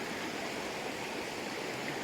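Steady rushing flow of a river at a backcountry crossing, a dense, even wash of water noise close by with no talking.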